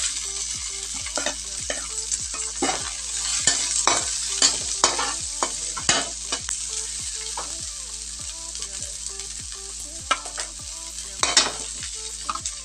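Onion sizzles steadily in a hot pan while a spatula stirs it, scraping in regular, close strokes over a continuous frying hiss with no talking.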